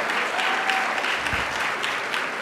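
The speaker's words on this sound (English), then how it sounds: "if we can get another round of applause for Ms. LaFay" An audience applauds at the 2015 Action Icon teen awards ceremony, a steady, dense wash of clapping from a large crowd that holds evenly for a couple of seconds with no voices.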